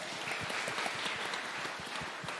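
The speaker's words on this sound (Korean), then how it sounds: "박수로 환영하겠습니다." Church congregation applauding during a Sunday worship service, a short, moderately quiet burst of clapping heard on its own.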